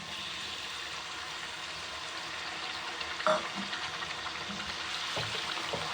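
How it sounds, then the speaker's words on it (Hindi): Three small chopped tomatoes fry in separated oil with chicken for a chicken and capsicum dish, giving a steady, soft sizzle with a few stirring scrapes midway and near the end, close and unaccompanied by talk. "अब यहाँ पे 3 टमाटर मैंने छोटे कटे हुए डाले हैं इसमें।"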